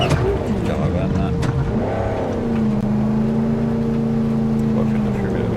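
Car engine driving in the Cyberpunk 2077 video game, a steady mid-loud drone with tonal whine shifting in pitch, running continuously beneath game sounds and someone talking over it.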